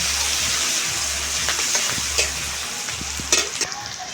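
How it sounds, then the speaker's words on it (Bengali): Sliced onion and garlic stir-fried together in a pan for a rustic Bengali papaya curry. A constant close sizzle runs under intermittent scraping and stirring clicks from a utensil. "রসুনটাও পেঁয়াজের সঙ্গে নেড়ে চেড়ে ভেজে নেব।"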